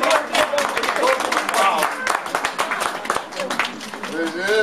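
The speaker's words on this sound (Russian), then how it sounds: "Давайте подружные аплодисменты." Wedding guests clap at a couple's welcome celebration, a busy patter of hand claps running throughout underneath continuous talk and voices.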